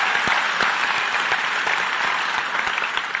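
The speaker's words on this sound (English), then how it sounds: "Can you imagine getting a round of applause that easily?" A crowd claps in a sustained round of applause, with individual sharp claps standing out from the dense, even patter throughout.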